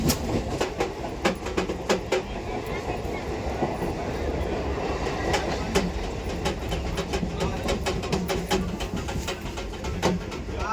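Rail wagons rolling past with a steady rumble and repeated clickety-clack wheel beats, loud and close throughout.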